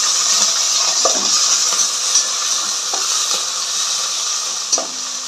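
Onions frying in hot oil give a constant, loud hiss, broken by a few light clinks and scrapes as a spoon stirs the pan for a chicken gravy curry; no one speaks.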